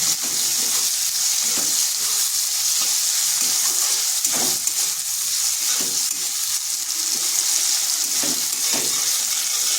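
Diced potatoes with a little turmeric and salt fry over medium heat in a pan, giving a steady, close sizzle with occasional stirring scrapes throughout.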